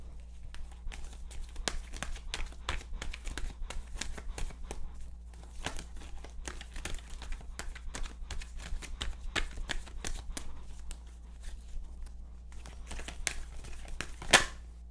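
A deck of tarot cards shuffled at length, producing a continuous close run of soft crinkling and flicking card sounds with small pauses and one sharper snap near the end.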